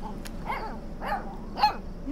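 A dog barks three times at a steady pace in the video game Life Is Strange 2, each bark short and fairly loud over a low background hum.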